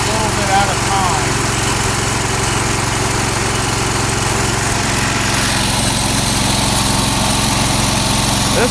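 Cub Cadet 1650 garden tractor engine idling with a slight miss, a steady loud low drone that runs unbroken and close throughout, with someone talking faintly under it.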